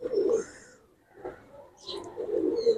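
Pigeons coo nearby in soft, throaty bursts, a few low rolling calls separated by short pauses.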